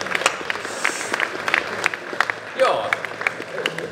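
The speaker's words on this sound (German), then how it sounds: "Ein Applaus." Applause from a trade-fair audience at an IT security live-hacking show, a scattered patter of clapping running under a man's speech, swelling briefly partway through.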